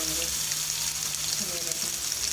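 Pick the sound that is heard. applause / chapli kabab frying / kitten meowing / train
chapli kabab frying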